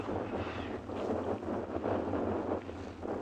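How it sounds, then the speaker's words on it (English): Biting wind on an early-morning safari drive gusts and buffets against the microphone in a continuous low rumble, with no talking. "it's just the wind that is actually biting"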